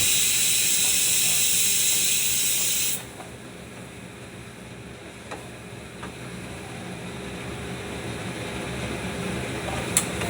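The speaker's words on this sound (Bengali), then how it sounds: "আমি চিকেনটা দিয়ে কষাচ্ছি।" Chicken hits a pan of browned onions for an anarosh pineapple chicken, starting with a loud hissing sizzle for about three seconds that settles into a quieter, steady frying crackle with occasional small pops.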